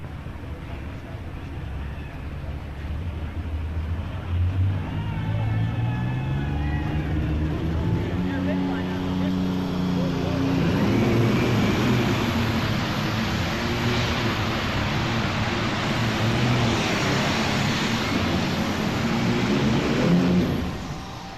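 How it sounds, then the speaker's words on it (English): A John Deere alcohol superstock pulling tractor roars through its run at a farm machinery show's finals, a loud sustained engine drone with rising harmonic sweeps as it pulls, steady across the clip beneath an announcer talking. "this is our first alcohol Superstocker tonight, right here. It's a good run, a little John Deere."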